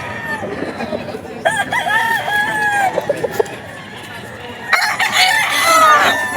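Gamecock roosters, a gold full stag among them, crow repeatedly nearby, with long rising-falling calls and clucks, while someone talks between and over the crowing.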